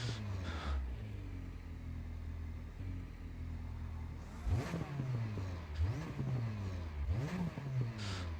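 In the iRacing simulator, a race car engine at the start is revved repeatedly, its pitch sweeping up and dropping in several rising surges over a steady underlying drone.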